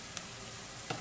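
Onions frying in oil in a pot for a vegetable soup give a steady close sizzling hiss, with two faint ticks of stirring and no talking.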